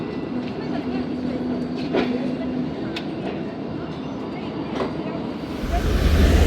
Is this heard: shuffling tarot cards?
no